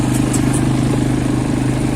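Quad bike engine running at a Dubai desert safari, a steady loud idling rumble close by with an even throb and no change in pace, without speech.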